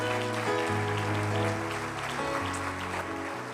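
A church congregation applauds in a steady wash of clapping over sustained organ-like chords, holding strong and easing slightly near the end.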